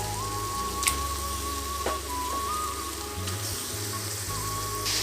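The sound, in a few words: chicken sizzling as added to pan with tomato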